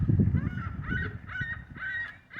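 Seagulls in Newfoundland call in a run of five or six repeated nasal squawks at a steady rhythm, close by, over low rumbling background noise.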